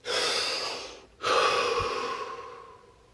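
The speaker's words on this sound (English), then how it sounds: "Deep breath." A deep breath, close and clear: one long airy inhale, a short pause, then a long exhale that slowly fades during a guided relaxation exercise.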